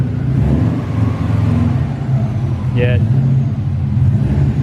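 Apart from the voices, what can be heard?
Subaru Impreza car driven up onto a ramp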